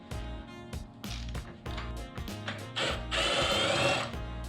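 Power tool whirring in short bursts as a fuel tank pivot bolt is removed from a BMW R nineT Urban GS motorcycle, with a louder, sustained buzzing run near the end; close and mechanical.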